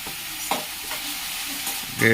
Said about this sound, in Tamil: நம்ம இந்த வெங்காயத்தை வதங்கறதுக்காக லைட்டா.